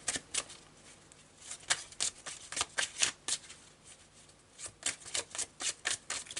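Marseille tarot cards being shuffled, a run of crisp riffling snaps in quick clusters with a brief pause midway, close and fairly quiet, no voices.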